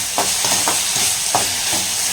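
Green chillies sauté in a pan for a green masala, a steady, close frying sizzle broken by several rhythmic scrapes of a stirring spoon, with no voices.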